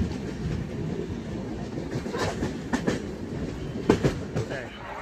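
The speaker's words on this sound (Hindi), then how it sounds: "तो भाई ये ट्रेन लग रही है गोरखपुर अंत्योदय।" Gorakhpur Antyodaya Express train at Kanpur station, with a low rumble of rail cars and a few sharp clanks and wheel knocks, set against a busy platform background.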